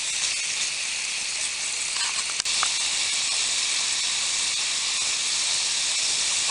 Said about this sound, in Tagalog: So, simmer natin for at least 3 to 5 minutes until yung ating pork, yung taba ng ating pork is maluto.